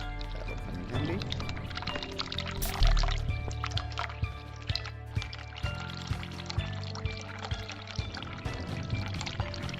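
Water runs and pours steadily in The Cat Lady, a continuous liquid splashing with small drips and clicks scattered through it, moderately loud and heard without speech.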